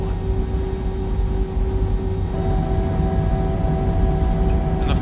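Steady loud jet engine roar inside an A320 flight simulator soundpack, with a faint thin whine of the wing flaps motor joining partway through beneath the constant drone.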